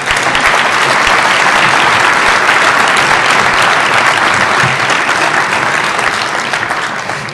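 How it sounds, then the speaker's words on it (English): A large audience applauds at a Naperville North vocal music concert, a loud, dense and steady wash of clapping that holds for several seconds before easing slightly at the end. "So round of applause for those people as well."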